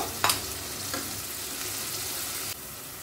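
Spinach with masala stirred and fried in a pan for palak paneer: a continuous close sizzle with a couple of quick spatula scrapes near the start.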